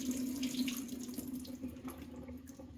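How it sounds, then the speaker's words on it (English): Cold water runs steadily from a kitchen tap into a sink, a close, continuous splashing stream with a faint hollow tone, alone with no talk. "I'm going to turn on some cold water."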